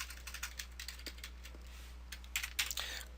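Computer keyboard typing while entering a street address in web-page code, a run of quick, light key taps with a few louder clustered strokes near the end, close and faint with no talk.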